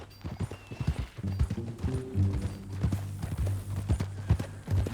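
Horse hooves clip-clopping in Red Dead Redemption 2, a steady walking rhythm of hoof strikes close by, alongside a low rumbling drone and brief snorts, with no speech over it.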